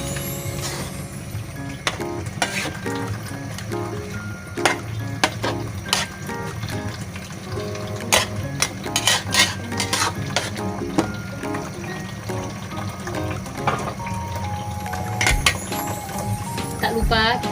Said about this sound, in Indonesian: tidak lupa kita aduk-aduk seperti ini ya